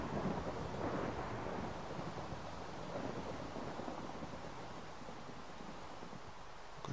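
Thunder from lightning in the video game Minecraft, a steady broadband rumble with rain-like hiss throughout, continuous and fairly loud, with no voices.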